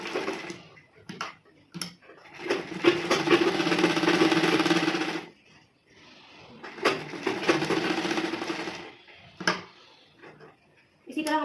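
A sewing machine runs in short bursts while stitching fine gathers on a blouse, close by, with quiet gaps and small clicks between runs and no voice heard.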